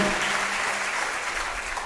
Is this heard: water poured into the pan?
no